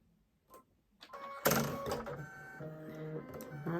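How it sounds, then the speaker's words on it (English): A Baby Lock sewing machine starts up and runs steadily with a dense mechanical whir and tonal hum, sounding close and fairly loud after a few quiet clicks and taps. "And now my machine wants to act up."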